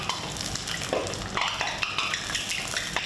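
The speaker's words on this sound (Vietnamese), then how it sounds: "Dầu ăn thì mình nên cho nhiều chút ha, nhiều mình để mình dễ chiên hơn." Vietnamese rice crackers (bánh đa) frying in plenty of hot oil, a continuous close sizzle and crackle with stirring and utensil clinks, no voices.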